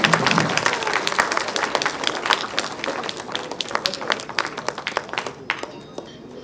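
An audience at a film teaser launch event claps loudly. The dense applause starts strong and slowly thins into scattered claps, with crowd murmur and voices underneath.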